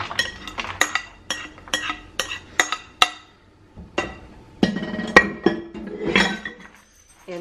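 A keto breakfast mixture is dumped and scraped from a bowl onto a metal cookie sheet, with a series of sharp clinks and taps, about a dozen close knocks at an uneven rhythm, and a brief rustling scrape near the end.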